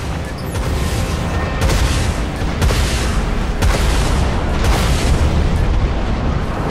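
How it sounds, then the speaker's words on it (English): Broadside ballistic guns on a warship firing in the space combat game Dreadnought: a dense, continuous barrage of loud booming shots and rumbling blasts that overlap with no pause, and no voices. "Broadside ballistic guns locked."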